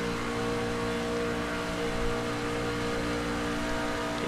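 A race truck engine holds full throttle on the Daytona oval, a steady constant drone from inside the cockpit at moderate level without any talking.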